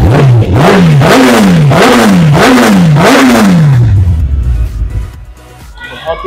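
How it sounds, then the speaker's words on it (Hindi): A superbike fitted with a Yoshimura exhaust is blipped repeatedly, about six quick, loud throttle revs rising and falling in a steady rhythm before the engine settles back to a low idle. "योशिमोरा लगा है, थ्रॉटल अप करते"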